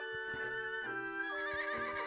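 A horse neighs in the Legend of Zelda: Echoes of Wisdom video game, a loud, clear whinny with falling, wavering pitch that sits over a steady musical background, with no talking.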